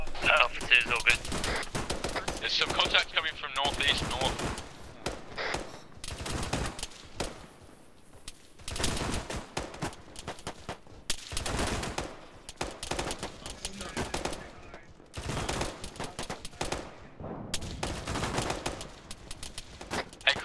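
Sustained gunfire in Arma 3, rapid automatic bursts and single shots cracking in dense clusters with brief lulls, while players talk over radio throughout.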